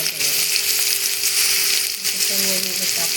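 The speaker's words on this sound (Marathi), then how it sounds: "जिऱ्याच्या नंतर कांदा कट करून घेतलेला आहे तो पण टाकून घेतलेला" Chopped onion hits a pan of hot cumin for a Marathi cowpea and potato vegetable dish, giving a loud, steady sizzle of frying with faint stirring underneath.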